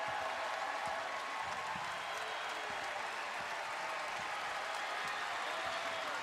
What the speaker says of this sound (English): Crowd rises to its feet.